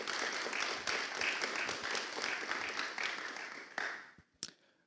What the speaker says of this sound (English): let's give them a round of applause first